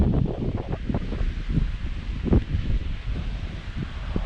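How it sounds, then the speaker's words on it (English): Strong wind blowing on the seashore at Santa Ponsa, Mallorca, with choppy water nearby, rumbling into the microphone as low gusty buffeting and rushing noise throughout, close and steady with no voices. "I'm sure you can hear the noise of the wind blowing."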